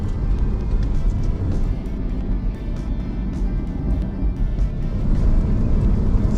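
A 2022 Aston Martin Vantage F1 Edition drones with a steady, loud low engine rumble from inside the car, with a few brief, faint exhaust crackles and pops scattered through it and no talking.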